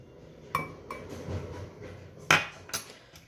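Yeast stirred into water in a drinking glass for hamburger bun dough, giving a few bright clinks of utensil against glass, with two sharper taps near the end; no one speaks.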